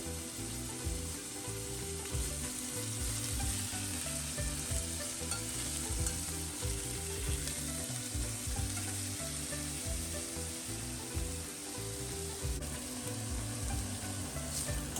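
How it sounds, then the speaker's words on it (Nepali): Boiled bitter gourd (karela) strips fry in oil in a pan, giving a steady, close sizzle with occasional stirring scrapes running evenly throughout, no talking. "त्यसपछि यसलाई फ्राई गर्दै छु"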